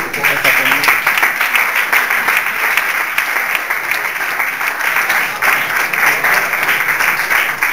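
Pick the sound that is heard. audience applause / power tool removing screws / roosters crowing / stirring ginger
audience applause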